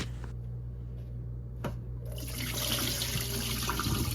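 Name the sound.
water being dumped out of a bowl of neck bones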